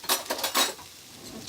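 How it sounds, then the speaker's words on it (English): Metal spoons clink and rattle as they are gathered from a drawer in a home kitchen, a few quick bright clatters up close, then quiet. "I'm going to get us some spoons"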